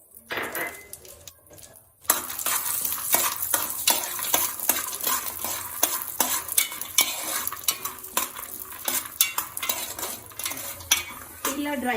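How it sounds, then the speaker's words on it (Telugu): Dry fruits fry in ghee in a pan, a steady sizzle under the constant clatter of a spoon stirring and scraping the metal, close and continuous after a quieter start. "ఒక ప్యాన్లో కొంచెం గీ వేసుకొని డ్రై ఫ్రూట్స్ ఫ్రై చేసుకుందాం."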